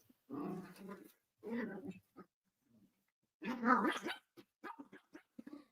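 Dogs, including a small teacup Yorkie, wrestling and barking indoors, with several bursts of growling barks separated by silence and quick yips near the end, close and clear.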